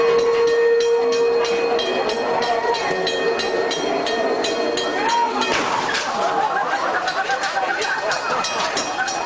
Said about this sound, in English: It's the train, guys. It's always the train.